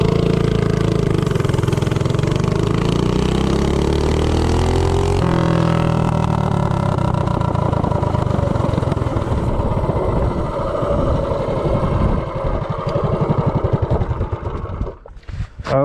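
Bonanza minibike with a Duromax 208 engine and 1.3 ratio rockers accelerating from 0 to 30, the close, loud engine climbing steadily in pitch through the run before backing off and dropping near the end, with no talking.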